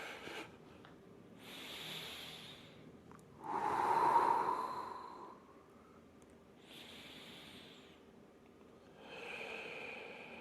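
Slow, deep breaths during a seated mindful movement session, drawn in through the nose and released through the mouth, close and soft with long airy inhales and exhales repeating every few seconds, no speech.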